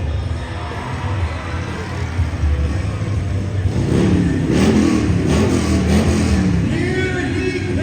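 Motocross bike engine revving inside an indoor arena at a Lincoln, Nebraska race, a mid-pitched engine rising and falling in loud revs that build toward the middle, over crowd and arena noise.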